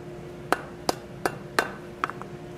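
Hot iron leaf hammered on the horn of an anvil: five sharp ringing metallic strikes spaced about a third of a second apart, followed by a couple of lighter taps, close and clear.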